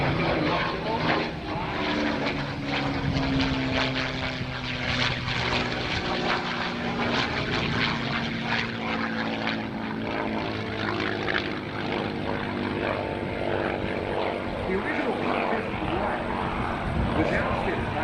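A P-51C Mustang propeller airplane drones steadily overhead at an airshow in Rochester, New York, with a broad, sustained engine roar, a voice speaking faintly beneath it.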